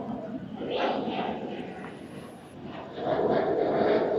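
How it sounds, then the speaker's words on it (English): A jet aircraft roars faintly in the distance at night in Aruba, its broad rumble swelling and fading as it passes, with no speech. "You hear jets passing by."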